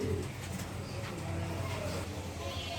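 Male Andalusian pigeons cooing, a steady low murmuring coo that carries through the whole stretch at moderate level, with faint background noise and no clear talk over it.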